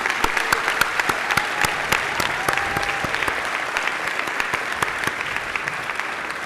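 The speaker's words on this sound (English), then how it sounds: "Can you join me with a round of applause for all of those who earned their master's and PhD degrees?" An audience at a University of New Brunswick alumni celebration in Fredericton applauds master's and PhD graduates, with sustained clapping and sharp individual claps standing out throughout.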